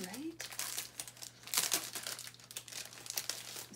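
Plastic wrapping on a deck of cards crinkles and tears continuously as it is pulled open up close, a busy crackling texture over a steady low hum.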